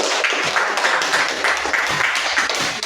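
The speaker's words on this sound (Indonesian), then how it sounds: "Beri tepuk tangan untuk Samantha." A classroom of students claps for a classmate, a brisk, close burst of many hands applauding in uneven rhythm for about three seconds.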